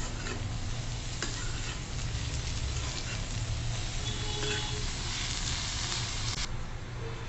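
Chopped radish greens frying in a pan over a high flame: a dense, steady sizzle that holds constant, with a few faint scrapes mixed in.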